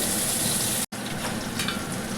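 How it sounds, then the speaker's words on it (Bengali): Cauliflower and potato pieces fry in hot oil for a Bengali bhetki fish curry, giving a steady close sizzle with a brief cut near the start, then continuous crackling frying with no talk. "ফুলকপি আলুগুলোকে ভালো করে বন্ধুরা আগে ভেজে নিই।"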